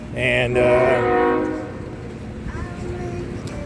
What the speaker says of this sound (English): Sorry about the train in the background there.